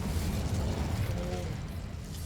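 Incendio fire spell cast in Hogwarts Legacy, a brief burst with a crackling, whooshing rumble, loud and dense at first, then thinning slightly as it fades.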